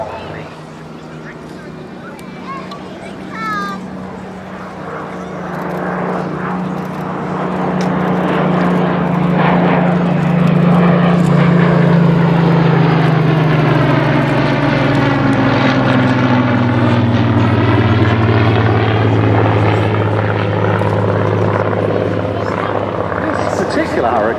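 A Spitfire and a Hurricane propeller aircraft drone loudly at an air show at Dunsfold, rising as they pass close by with a sweeping pitch change, then holding a steady roar.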